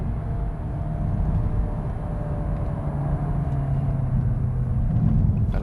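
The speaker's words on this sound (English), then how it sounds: "That exhaust, it sounds fantastic. You get a nice little burble every now and then." Volkswagen Golf GTI Clubsport 45 exhaust while driving: a steady, loud low rumble and drone of engine and road noise throughout, with no distinct pops.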